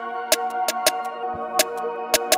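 A trap beat with its snare pattern pitched up an octave, giving sharp, bright hits over a sustained melodic bed, irregular bouncy rhythm of about eight strikes in two and a half seconds.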